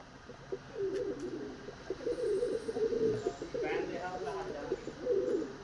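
Low, repeated cooing from a pigeon sitting quietly murmurs through the clip, blending with a steady background of voices talking nearby.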